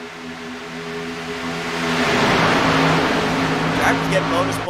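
A Toyota Supra race car roars in a racing video game, its engine note swelling louder as it passes on a superspeedway, while a commentator talks over the sound.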